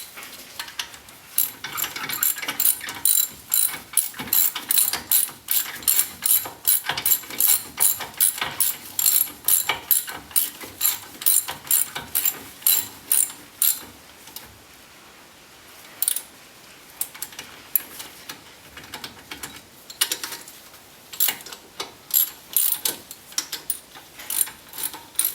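A hand ratchet clicks in quick repeated bursts while tightening bolts on a Dana 30 or 44 axle, close and crisp, with brief pauses between runs of strokes.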